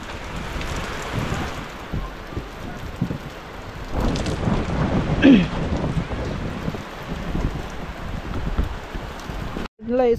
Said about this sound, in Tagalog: Dito na ang ulan.